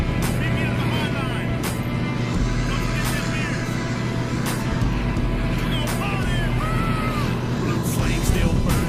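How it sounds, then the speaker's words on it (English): A loud truck engine on a farm drones steadily close by, with a deep rumble and constant hum, while a few faint voices and squeaks come through over it. "Truck is so damn loud."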